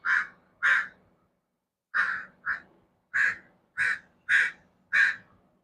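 Crows cawing outdoors, eight loud harsh caws, first in pairs and then in an evenly spaced run, close by with silence between the calls.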